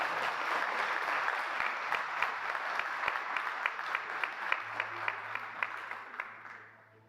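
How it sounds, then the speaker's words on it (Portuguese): A church congregation at a Brazilian service claps steadily. The applause starts as a broad wash, tightens into a faster, more unified rhythmic clapping, then fades away near the end. "Vamos aplaudir Jesus de novo?"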